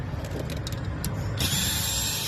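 A ratchet on the 15 mm bumper screws of a 2022 Buick Encore: a steady ratcheting whir with a brighter, sharper stretch near the end, heard up close and with no talk.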